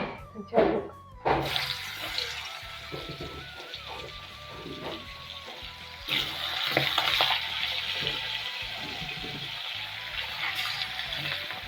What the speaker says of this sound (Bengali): এখন আমি এই যে মাছটা ভেজে নেব